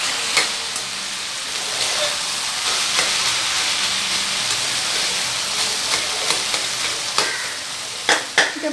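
A Bengali fish mixture with roasted cumin being stirred in a hot pan: continuous close sizzling with repeated scraping spatula strokes and a few sharper knocks near the end.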